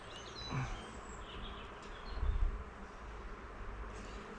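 Honeybees in a populous hive during a spring inspection hum continuously close by, with single bees buzzing past in brief rising and falling tones and a low handling thump midway, no voices.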